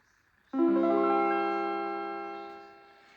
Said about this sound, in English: the strum plate voice, the first voice, sounds like this.